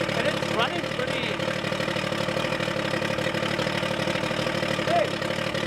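A restored outboard boat engine idles steadily up close, a continuous even mechanical drone with no pauses, while voices are present over it.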